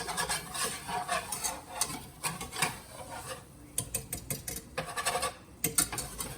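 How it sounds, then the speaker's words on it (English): A whisk stirs a thick flour roux for sausage gravy, making quiet rhythmic scraping and swishing strokes against the pan, close and alone. "I'm gonna take a whisk and whisk it together"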